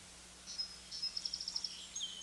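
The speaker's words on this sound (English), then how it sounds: "the listening which reveals bird song, it's there" Faint bird song in a quiet rural setting, a short series of high, rapid chirps and trills, with a thin repeated run of notes near the middle.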